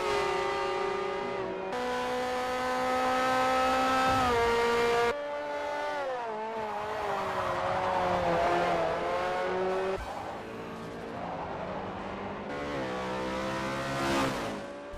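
A race car in the Forza video game at the British GP roars loudly, rising and falling as it shifts gears. There are sudden cuts between engine sounds and a brief squeal of tyres near the end, with no talk.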